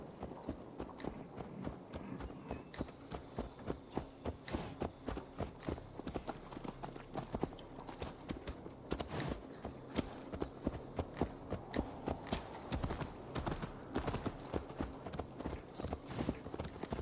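Steady clip-clopping of horse hooves on a hard surface in Assassin's Creed Valhalla, a continuous walking rhythm heard up close for a long stretch.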